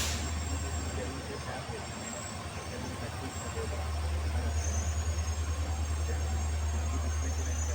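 Jan Shatabdi Express pulling out of Dehradun station, a steady low rumble of the train that grows heavier and more rhythmic after a few seconds, with broadband clatter and hiss close by.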